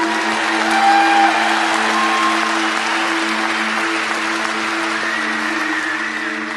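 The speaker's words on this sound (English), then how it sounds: "Let's give them a big round of applause." Audience applauding graduates at a graduation ceremony, a dense, sustained wash of clapping from a large crowd that continues evenly and fades slightly at the end, with a steady hum underneath.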